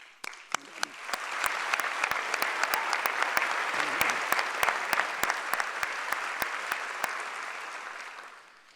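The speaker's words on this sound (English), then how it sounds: "Let's applaud his leadership again." Sustained applause from a crowd at a UN Humanitarian Day event, dense clapping that swells and holds steady for several seconds, with sharp individual claps standing out.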